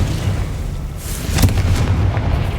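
A Confringo fire spell bursts in Hogwarts Legacy, a dull, rumbling explosion over a low, steady roar that fills the short moment without any voices.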